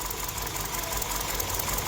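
A car engine idles roughly with the number 4 fuel injector pulled, giving an uneven, shaking drone with a knocking pulse, close and steady, with no talk.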